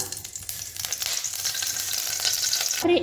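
Oil heating in a hot kadhai gives a steady, close sizzling hiss that holds throughout, with a brief louder rattle right at the end.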